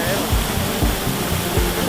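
Roaring waterfall at the Siete Cascadas of Cafayate, a steady loud broadband rush filling the whole clip with low pulsing surges beneath.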